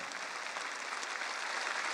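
Concert audience applauding at a memorial concert for Skryabin, a dense, steady wash of many hands clapping at a moderate distance, continuous with no voices on top.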